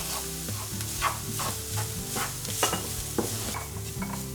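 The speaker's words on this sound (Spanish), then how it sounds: "incorporamos la harina y removemos bien para que se tueste un poquitín" Flour and softened onion toast in a pan while being stirred, giving a quiet, continuous sizzle broken by repeated scraping strokes from the spoon.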